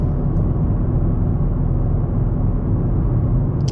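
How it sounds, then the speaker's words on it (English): Inside a Nissan Z sports car on the highway, dense low-frequency road and tire roar rumbles steadily and fairly loud, with no talking heard. "going down the highway is pretty comfortable. There is definitely a lot of road noise, but not bad overall"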